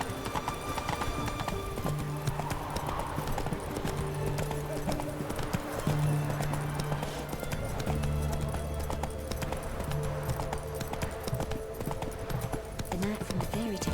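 Horse galloping in The Witcher 3 video game: steady rhythmic hoofbeats clip-clopping under music and ambient game sound, with a brief whinny, moderately loud throughout.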